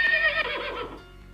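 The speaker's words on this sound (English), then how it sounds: "play sound horse until done" A horse neigh sound effect plays once in a Scratch programming project, a bright whinny with a falling tremolo that fades out after about a second, heard alone.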